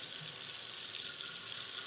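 Tap water runs steadily while a cake pan is washed, a constant hissing splash at close range with no speech.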